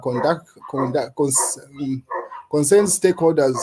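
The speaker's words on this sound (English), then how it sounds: "So if you hear barking in the background, those are my dogs." Dogs bark in the background while a man gives a press briefing on the harassment of a former Zambian president. The short barks come in bursts behind the continuous talk.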